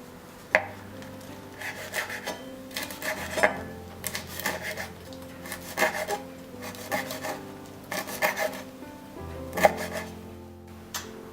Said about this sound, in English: we're gonna go ahead and chop our curry leaves